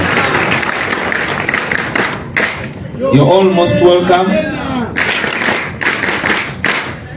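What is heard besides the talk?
applause for a speaker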